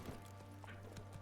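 Roach, a horse in The Witcher 3, trots briefly with faint, soft hoofbeats over a low game hum.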